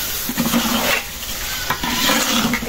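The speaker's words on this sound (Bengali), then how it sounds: "চাউল ভাজা ভাজা হয়ে গেছে, পানি দাও" Rice frying with cashews and almonds in a pot, stirred with a scraping spoon, giving a continuous sizzle broken by rhythmic stirring strokes close to the listener.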